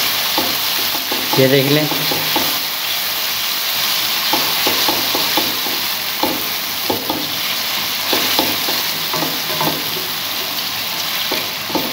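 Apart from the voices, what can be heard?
chana dal being roasted in a pan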